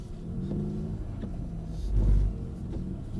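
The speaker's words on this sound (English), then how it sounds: "So let's keep going, build up a bit of speed. So full power." A Mercedes-Benz CLS AMG accelerating at full power on a driving course, its engine note rumbling and surging to a louder peak midway before settling, heard from inside with no talking.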